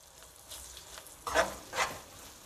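Ginger and garlic paste stirred into browned onions in a hot pan, a soft sizzle with two louder scraping, frying swells close by.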